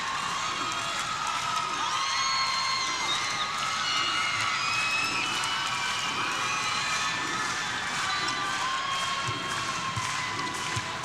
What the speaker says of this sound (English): That has the Seymour crowd buzzing.